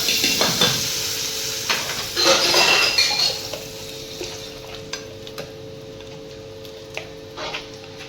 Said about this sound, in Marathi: मस्त आपण फोडणी पण टाकू.